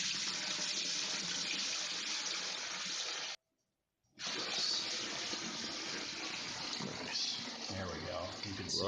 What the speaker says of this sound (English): just pour the wort back and forth into these buckets so it introduces as much oxygen as possible